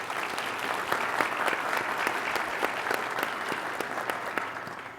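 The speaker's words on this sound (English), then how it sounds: "Let's give our host a big round of applause." An audience at a corporate CEO roundtable event gives the host a big round of applause, dense sustained clapping from many hands that continues steadily and tapers slightly at the end.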